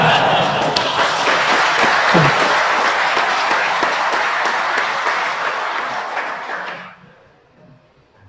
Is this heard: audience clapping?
yes